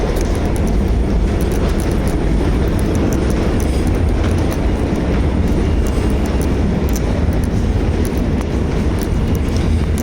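Steady, dense ambient roar fills Moynihan Train Hall at Penn Station in New York City, a continuous wash of crowd and mechanical rumble with faint ticking clicks, with no distinct voices standing out.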